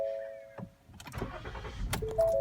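A 2016 Ford Explorer starts up: soft dashboard chimes, then the starter cranks and the engine catches into a close, rumbling idle, with more chime tones near the end.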